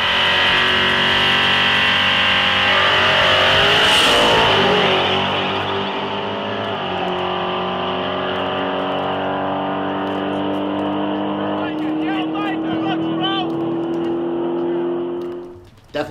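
A boosted newer-generation Camaro at a drag race: loud, sustained engine roar climbing through the gears with shifting harmonic sweeps, holding strong before dropping off abruptly at the end.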